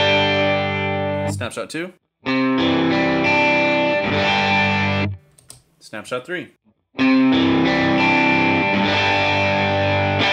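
Distorted electric guitar played through an HX Stomp stereo dual-amp preset, loud sustained chords in bursts separated by short pauses, with a voice briefly calling out snapshot changes between them.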